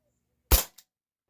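A single sharp crack comes from a GAMO PT-80 air pistol, which has a small leak, as it fires an 8.44 grain pellet, followed by a faint short click, loud and close in silence.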